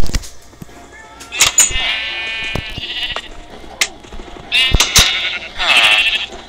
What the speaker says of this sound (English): That's a sheep, guys.